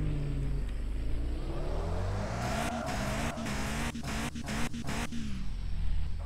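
A Tofaş car engine in the Car For Sale simulator game drones and revs as the car arrives, rising in pitch with a brief tire squeal, loud and steady with no talking.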